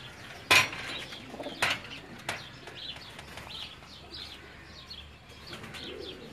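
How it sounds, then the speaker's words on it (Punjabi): Homing pigeons kept on a rooftop in Jamalpur Syedan, Gujrat, with a few sharp bursts of wing flapping early on and soft cooing and chirps scattered throughout, fairly near but quiet, no talking. "ਉਹਨਾਂ ਦੇ ਪ੍ਰਵਾਸੀ ਕਬੂਤਰ ਨੇ ਜੀ"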